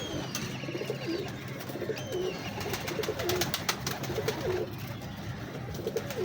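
Cooing pigeons at a pigeon show of red-eyed Zakh Cheene birds: soft, rolling coos repeat steadily through the whole stretch, fairly close, over a busy crowd-like murmur.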